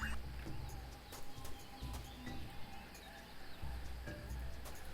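Jungle ambience in the video game Tales of Monkey Island carries soft, scattered bird calls and chirps over a dense, constant background hum, with no voices.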